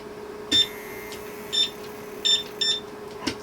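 Ultrasonic skin scrubber spatula giving several short, high electronic beeps spaced irregularly over a few seconds, close and fairly clear above a faint steady hum.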